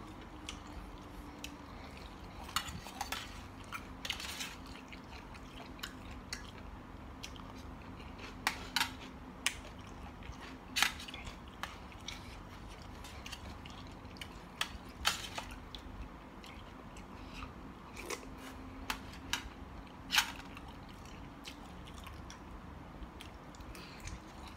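Crunchy squid tentacles in a spicy Thai mixed seafood salad are chewed close up. Faint moist crunches and clicks come at irregular intervals over a low background hum, with no talk.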